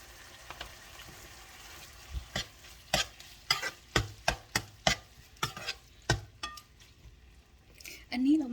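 Bell pepper is stir-fried in a pan, with repeated sharp scraping and tapping strokes of a utensil over a low sizzle, close and fairly loud, followed by a brief voice at the end.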